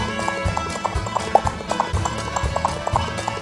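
Horse hooves clip-clop in a quick, steady gallop rhythm, close and fairly loud, with no speech over them.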